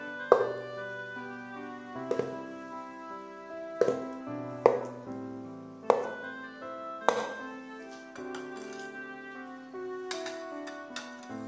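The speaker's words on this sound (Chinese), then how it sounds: "准备两块老豆腐，切三角块" A knife chops firm tofu into triangular pieces on a board, giving spaced, crisp knocks over a steady background of music, with no talk.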